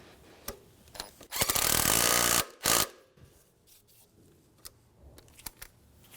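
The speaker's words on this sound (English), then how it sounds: "we'll come back with our 10 mil and tighten it up" A 10 mm ratchet or wrench tightening a side engine mount bolt on a 2003-2011 Honda Element, heard as a loud burst of rapid metallic ratcheting of about a second, a shorter second burst, and scattered light tool clicks.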